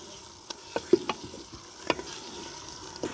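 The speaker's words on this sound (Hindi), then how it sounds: "अब इसको हम फ्राई करेंगे प्याज के साथ," Mutton pieces frying with onions in a pot, with a steady low sizzle broken by scattered stirring scrapes and clinks close by.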